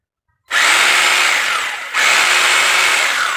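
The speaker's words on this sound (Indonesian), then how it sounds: "Ini posisi ketuk ya, jadi posisi ketuk palu, jadi kita putar posisi rangkap double palu sama bornya" A three-function rotary hammer drill, under repair after dying completely, runs in hammer mode. It starts abruptly with a loud, harsh whirring rattle, dips briefly, then surges again and keeps running steadily up close without speech.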